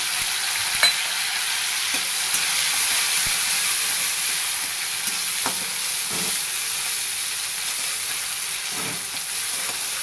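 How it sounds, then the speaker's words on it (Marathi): Finely cut tomatoes fry in oil while being stirred, a steady steamy hiss throughout with scattered light clinks and scrapes of a spoon against the pan. "तेलामध्ये चांगलं परतून घ्यायचं टोमॅटोला"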